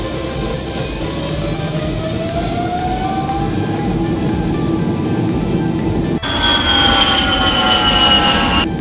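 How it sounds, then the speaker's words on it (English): Airliner jet engines spool up during a takeoff roll in the PTFS flight game: a loud, steady engine roar with a slowly rising whine, then a brighter, sharper tone late on. No one speaks. "You are cleared to take off at runway 25."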